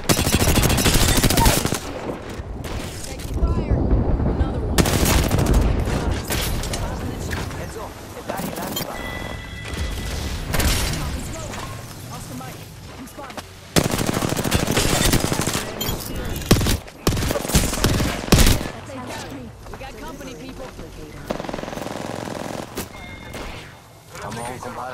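Bursts of automatic gunfire and single shots in the video game Apex Legends, loud and repeated over about 25 seconds with short pauses between volleys, mixed with game voice lines.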